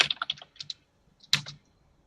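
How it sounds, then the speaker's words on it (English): A quick run of close computer-keyboard keystrokes rattles off and stops. After a short silence, one louder cluster of clacks follows. "Why is my keyboard not doing anything?"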